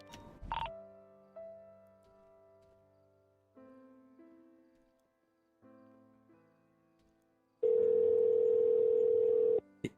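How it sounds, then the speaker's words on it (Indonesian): A telephone ringing with a sustained electronic tone, loud and steady for about two seconds near the end, preceded by sparse plucked musical notes and a short knock. "Jenderalku telepon."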